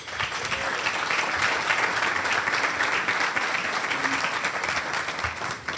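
An audience at a Tiger Bay of Manatee leadership awards evening in downtown Bradenton applauds to welcome Mayor Wayne Poston, a dense, steady round of clapping that holds at an even level throughout.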